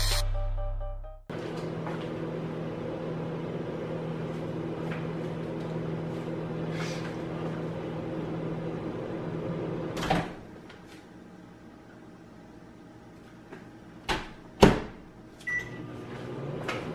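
A household microwave oven runs with a steady mechanical hum for about ten seconds, then stops, followed by quieter sharp clicks and knocks like a door or cupboard.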